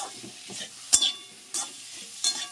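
Mustard seeds fry in a hot pan, giving a few short, sharp bursts of crackle and spatter about half a second apart over a quiet sizzling background.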